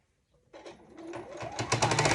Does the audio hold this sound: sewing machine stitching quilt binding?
yes